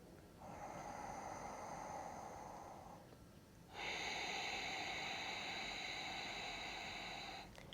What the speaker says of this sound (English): The Ujjayi breath is made, you go and then hear that sound coming from the throat